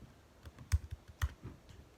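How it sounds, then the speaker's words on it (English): Computer keyboard typing at a desk, a sparse run of soft key clicks with a few sharper taps, close and quiet, with no speech. "let's type up here"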